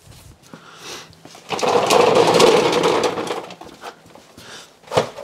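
A hand pump forcing gear lube into the lower unit of a Mercury 90 HP four-stroke outboard: a few scattered clicks, then a sustained rough, churning squeal lasting under two seconds, then faint clicks again with a sharp knock at the end.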